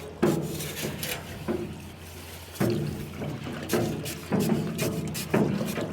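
Scrap sugar being stirred into water in a tote with a wooden boat paddle: irregular sloshing strokes and knocks, each one a brief splashy burst roughly every second or so, close by, with no speech.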